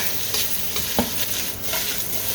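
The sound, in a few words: small-cut carrots stir-frying in wok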